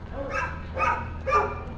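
Dogs at a dog park with a splash pad, three sharp barks in quick succession, fairly close and clear, with no talk over them.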